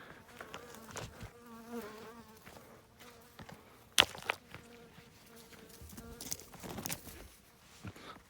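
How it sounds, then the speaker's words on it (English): A bee buzzes close by outdoors, its whining drone rising and falling as it circles near, with occasional faint knocks and rustles in the background and no talking. "And I got another bee buzzing me."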